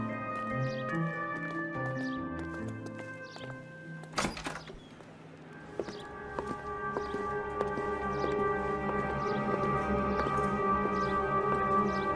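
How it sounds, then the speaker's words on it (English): A wailing police car siren in L.A. Noire rises and falls continuously over layered tones, with a sharp crash-like burst partway through before the siren swells louder again. "I've always found the siren useful."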